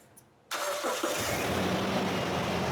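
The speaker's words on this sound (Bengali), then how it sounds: "স্টার্টটা দিয়ে সাউন্ড একটু শোনাতেন" A Toyota Hiace Super GL engine cranks and catches after a quiet moment, then settles into a steady, fairly loud idle close by, with no talking.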